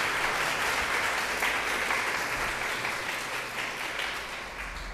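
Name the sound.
audience applause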